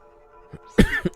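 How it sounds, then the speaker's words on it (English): A single short cough, close and loud into the microphone, with a little throat clearing around it, heard over a low hum from a Nintendo 64 Zelda game. "Why do I keep coughing today? Jeez. Sorry if I keep coughing down the microphone."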